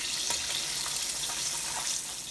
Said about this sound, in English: So I added another cup of water in there.